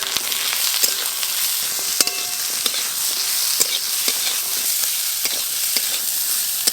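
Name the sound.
whole spices, onion, garlic and ginger frying in mustard oil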